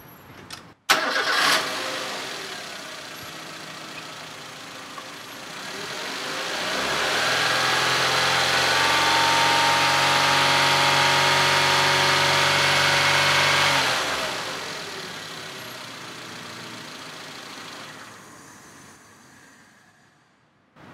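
A car engine idles, then revs to 3000 RPM and holds a steady higher pitch for about ten seconds before dropping back to idle; close and loud.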